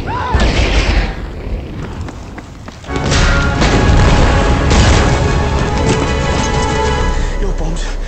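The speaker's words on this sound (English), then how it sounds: "that's because my bombs went off" Heavy booming explosions and deep thuds from bombs in the Battlefield V video game, loud and close, with a rumbling barrage building after a short lull and voices talking over the blasts.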